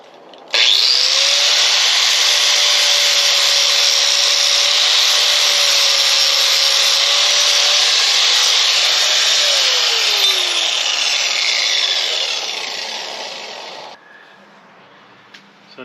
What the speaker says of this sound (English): I think I'm gonna do that bit on the grinder